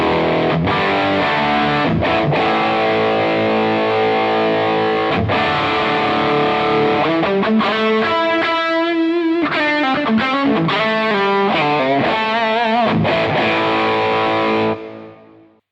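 An electric guitar plays a saturated, modded-Plexi-style rock riff through an Amplified Nation Ampliphonix amp with the bright switch engaged, loud and continuous with sustained chords and bends, before the final note cuts off.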